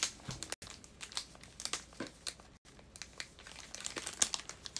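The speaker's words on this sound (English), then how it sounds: "shuffle up the packs so you get all the pools and I don't" Crinkly foil Pokémon card booster packs shuffle and rustle close up in a steady run of crackling crinkles, with two brief silent gaps and no talking.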